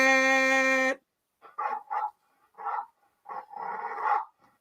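A pit bull barks about five times in short, loud bursts, close to the microphone. The barks come after a second of steady, buzzing harmonic tone and are separated by brief silences.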